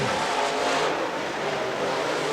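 Late model race cars roar down the front stretch of an oval racetrack in a Silver Bullet Series heat race, a dense, steady engine wash that holds loud and continuous throughout.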